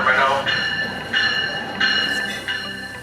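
A Capitol Corridor passenger train sits idling at Richmond station with a steady mechanical hum and high tonal whine that swells a few times, with faint background activity around it.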